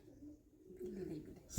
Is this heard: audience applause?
no